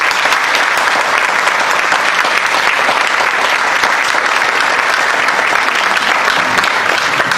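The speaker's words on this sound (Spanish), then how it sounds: "un fuerte aplauso" Loud, sustained applause fills a school hall at a book presentation, a dense, even roar of many hands clapping together without pause from start to finish.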